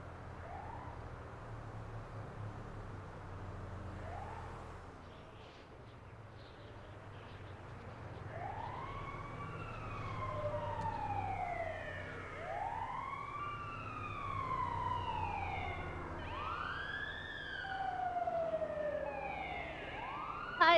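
An ambulance siren from a roleplay server in a video game wails in long rising and falling sweeps, repeated steadily over a low engine rumble and holding at a moderate level throughout.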